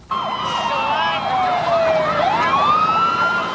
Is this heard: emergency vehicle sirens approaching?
yes